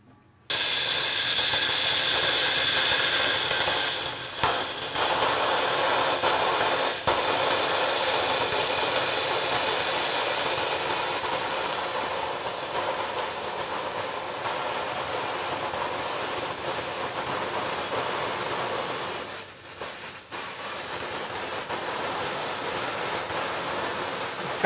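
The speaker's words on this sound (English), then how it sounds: "just open the CO2 valve" CO2 gas released into a homemade hydraulic dry ice press hisses loudly and steadily for over twenty seconds, a broad rushing noise that dips briefly a couple of times and then continues.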